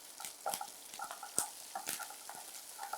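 Garlic and chillies sizzle softly in a pan, with scattered light clicks and scrapes from stirring.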